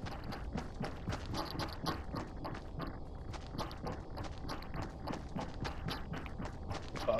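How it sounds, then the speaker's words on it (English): Steady, rapid footsteps crunch on a mountain slope while a character climbs a peak in Fortnite, dense and continuous against a busy game backdrop, with no talking. "I honestly can hear the footsteps on here."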